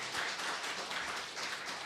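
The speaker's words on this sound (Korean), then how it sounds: "우리 힘찬 박수 한번 부탁드리겠습니다." Church congregation at a Sunday service applauds for a couple, a brief, fairly loud burst of many hands clapping in a continuous wash.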